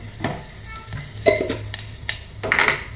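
Cumin seeds crackling in hot oil in a pan, with irregular pops and sputters over a low hum, plus a few utensil clinks against the pot, close and without talk.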